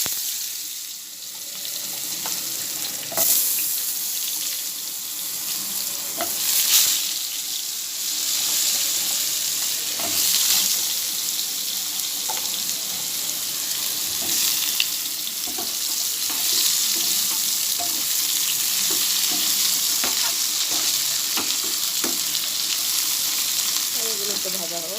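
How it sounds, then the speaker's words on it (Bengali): Potatoes with black cumin frying in leftover fish-frying oil in a home kitchen, a continuous hiss and sizzle with scattered crackles and occasional stirring or clinking, loud and close, with no voice over it. "এবার আলুগুলোকে ছেড়ে দেবো, মাছ ভাজার তেলেই দিয়ে দিলাম"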